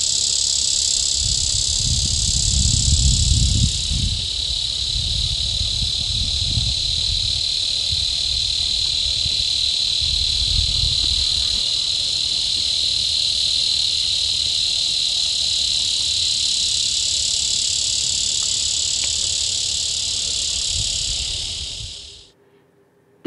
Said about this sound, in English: The giant grassland cicada is found among the short vegetation of prairies and meadows.